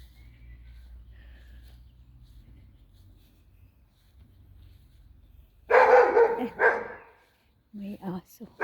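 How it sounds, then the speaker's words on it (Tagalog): A dog barks a few times outdoors in a residential neighbourhood, sharp bursts near the end after a quiet stretch, with someone talking nearby. "May aso."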